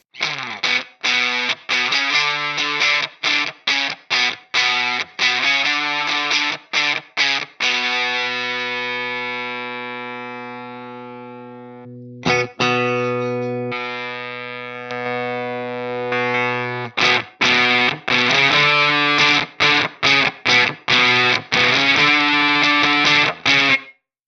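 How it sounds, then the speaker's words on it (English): An electric guitar runs through a Fractal Audio Master Fuzz drive model, modelled on the Maestro Fuzz, into a clean amp. Lo-fi fuzzy notes are picked in quick bursts, one long sustained note rings out midway, and no one speaks. "So the Master Fuzz is based on the Maestro"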